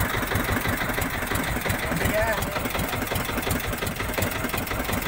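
A fishing boat's diesel engine runs steadily on a traditional handline fishing trip, a constant close rumble that fills the whole stretch, with people talking over it.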